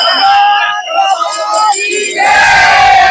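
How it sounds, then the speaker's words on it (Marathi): Devotees at a village festival procession cheer and shout jubilantly as a loud, dense crowd, the roar swelling strongly toward the end. "बघा अनेक भक्त मंडळीच्या उत्साहामध्ये हा जल्लोष"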